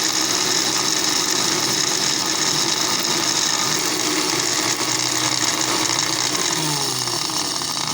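An electric grinder runs steadily, grinding whole garam masala spices, with a loud continuous whirring drone throughout and no pauses.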